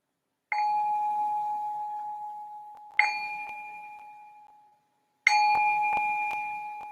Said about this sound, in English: just ring this bell to signal the start of the second meditation